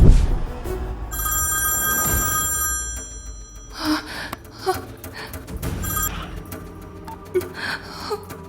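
A telephone rings in a Malayalam film scene as a call is placed: repeated electronic ring bursts sound over faint room noise, with no voices.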